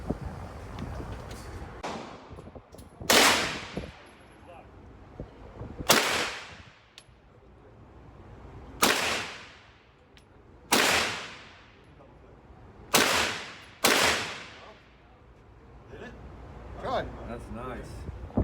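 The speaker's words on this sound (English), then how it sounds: "we're gonna do a little bit of shooting" Gunshots fired at an outdoor shooting range, about seven sharp cracks spaced a couple of seconds apart, each trailing off in a long ringing echo, with voices talking between the shots.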